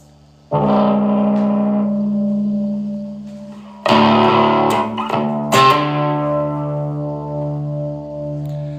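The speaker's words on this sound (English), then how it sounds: "This is gonna have a high distortion." Heavily distorted electric guitar chords, played through a high-distortion effect on a BOSS GT-10 effects processor, ring out loud and sustained, with a few sharp new strikes cutting in partway through.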